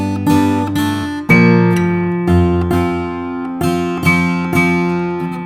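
An acoustic guitar plays the closing chords of a song, several strummed chords ringing out close and clear, each decaying before the next, with no talk.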